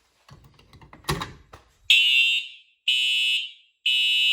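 A Simplex fire alarm with SmartSync TrueAlert horn-strobes, set off from a T-bar pull station, sounds three loud steady horn blasts, each about half a second, after some handling noise and a sharp clack of the pull station.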